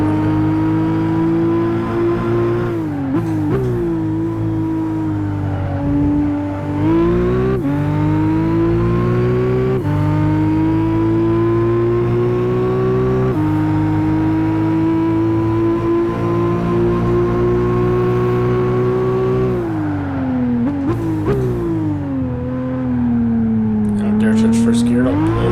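A Nissan Skyline ER34 races in Gran Turismo 5, its engine loud and close throughout. It revs up steadily through each gear, and each upshift brings a sharp drop in pitch before the engine climbs again. A voice talks over the engine at times.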